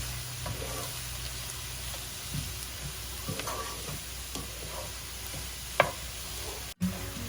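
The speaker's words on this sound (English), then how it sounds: "Onion will start to lose its moisture while it's cooking." Onions with a little salt frying in oil for goat brain fry, a quiet, steady sizzle with faint stirring clicks and a sharp utensil tap near the end, no voices.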